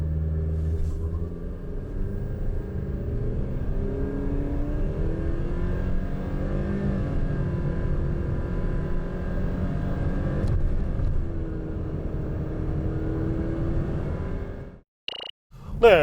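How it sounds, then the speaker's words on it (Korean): A 2021 Renault Samsung QM6 2.0 LPe pulls away from a standstill with a steady, rising engine drone and rumble that holds for most of the run, then cuts off abruptly near the end. "자, 그럼 이번에는 발진 가속 성능 한번 볼까요?"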